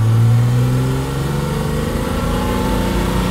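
A 1968 Mercedes 280SEL six-cylinder with a four-speed gearbox drops a gear from inside the car, the engine note dipping briefly and then settling into a smooth, steady hum.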